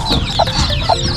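Chickens at a poultry farm clucking at close range, with two short clucks over a steady background of farmyard birds in a brief clip.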